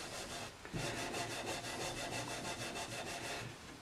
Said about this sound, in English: It's just buffing it slightly